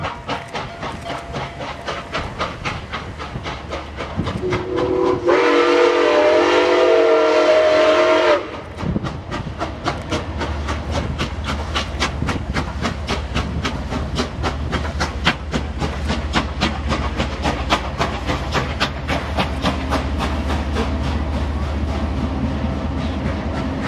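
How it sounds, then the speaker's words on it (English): NKP 765, a big mainline steam locomotive, arrives at Gallitzin with a loud, sustained steam whistle blast lasting a few seconds, followed by the steady chuffing, rumble and clanking of the passing train. "My first ever time seeing big mainline steam in operation."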